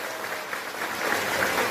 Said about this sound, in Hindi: और एक जोरदार ताली हमारे मुख्यमंत्री जी के लिए और विपत भाई के लिए